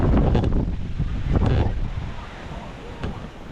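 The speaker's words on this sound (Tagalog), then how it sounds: "Lakas yung hangin dito oh." Strong wind near the sea buffets the microphone in loud, gusty bursts, with a steady roar beneath and a voice speaking over it.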